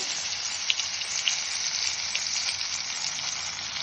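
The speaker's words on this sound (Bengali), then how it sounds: "এবার কড়াইতে দিয়ে দেবো দুটো মতন শুকনো লঙ্কা" Dried red chillies frying in hot oil in a wok, a steady loud hiss and crackle with a few sharp pops, continuous and close, with no voices.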